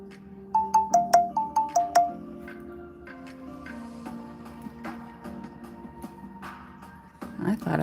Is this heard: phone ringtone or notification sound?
yes